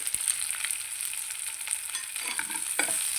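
Radish curry with turmeric sizzles steadily in a hot pan while it is stirred, giving a continuous close hiss with faint scraping, and no voices.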